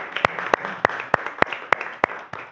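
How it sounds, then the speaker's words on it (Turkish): Sharp, evenly spaced claps ring out about every third of a second, a single pair of hands or a small group clapping rhythmically in a room, fairly close and distinct rather than a crowd's wash. "Alkış, hadi güçlü bir alkış alayım."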